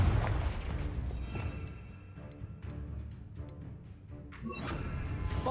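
Confringo spell blasts in Hogwarts Legacy: loud explosive bursts and crackling fiery impacts, with a booming hit at the start and another sharp blast near the end, over continuous combat rumble.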